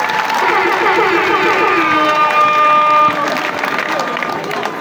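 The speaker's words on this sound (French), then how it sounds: "Qu'on applaudisse pour papa Jean-Boniface Asselé." A crowd at a political referendum rally cheering and shouting, loud overlapping voices with a sustained whistle or horn tone in the middle, and some clapping mixed in.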